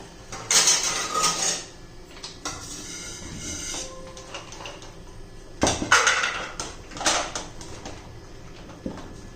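Boiled peanuts in their shells are taken from a pressure cooker onto a plate, producing a few bursts of clattering metal and rattling shells between quieter moments, with no talking.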